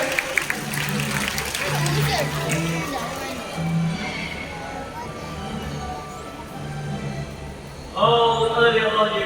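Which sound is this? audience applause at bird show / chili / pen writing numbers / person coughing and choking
audience applause at bird show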